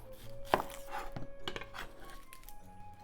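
A knife cuts into an onion on a board, with one sharp chop and a few softer cutting strokes that follow, all quiet and close.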